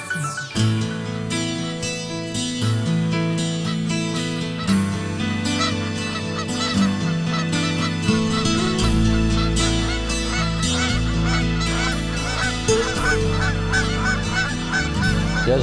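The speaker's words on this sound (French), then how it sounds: "T'as vu-tu les oies qui se battent ensemble, ils se tiraillent là" A flock of geese honks and squabbles loudly nearby, overlapping harsh calls filling the whole stretch in busy, uneven bursts.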